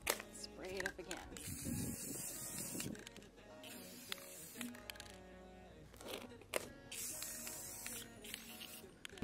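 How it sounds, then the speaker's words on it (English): Short bursts from a spray bottle mist water onto a thrifted DIY vessel being given a rough textured finish, several sharp hissing puffs with pauses between them, close up, with music playing along underneath. "Spray it up again."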